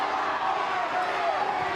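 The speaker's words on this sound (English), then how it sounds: "And most of the penalty appeals were from the crowd." Women's football crowd at a Chelsea versus Manchester City match roars in a dense, continuous swell of voices appealing for a penalty, with a commentator talking over it.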